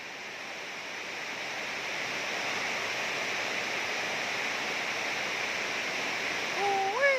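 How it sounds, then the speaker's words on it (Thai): Steady, dense hiss of rain pouring down, even and unbroken throughout, with a brief wavering tonal sound rising near the end. "ฝนตก"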